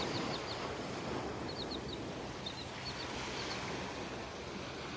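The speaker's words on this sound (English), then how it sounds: "Beautiful little birds." Small birds chirp in brief clustered calls along the beach at Delnor-Wiggins, faint over steady surf and wind.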